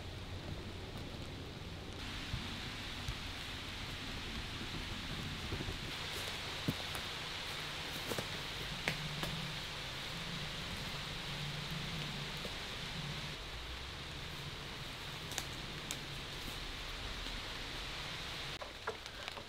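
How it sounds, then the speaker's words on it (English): Light rain patters steadily on woodland around a camp, a constant soft hiss with occasional louder drops and thuds nearby. "it starts raining as soon as we start filming, but it is raining a little bit now"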